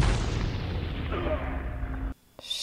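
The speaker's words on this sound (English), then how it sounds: "Grenade, oh." A grenade explodes during a battle scene in the war film Hacksaw Ridge, a loud, deep boom that rumbles and decays over about two seconds before a sudden cut to near silence.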